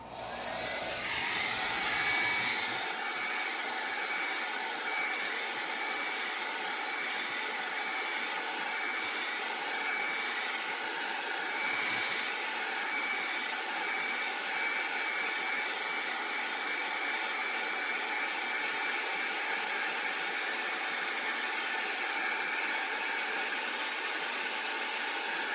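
A handheld dryer blows steadily on wet red paint on a tile, a continuous close whooshing hum that holds evenly for over twenty seconds with no talking.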